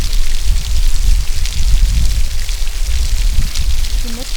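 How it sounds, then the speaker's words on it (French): Heavy rain pouring down during a thunderstorm in Yellowstone near a geyser, a loud, dense, continuous hiss of drops hammering the ground, with a brief faint voice at the very end. "L'orage grossit alors que nous laissons le geyser derrière nous, et la pluie tombe tellement fort qu'on a du mal à avancer."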